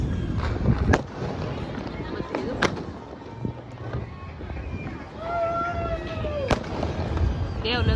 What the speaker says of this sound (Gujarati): બધે જો ફટાકડા ફોડવાનું શરૂ થઈ ગયું છે